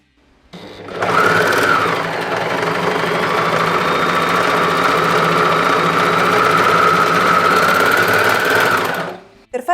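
A serger sews a folded-fabric pintuck, with its motor whirring in a steady, loud, continuous drone for several seconds before it stops abruptly.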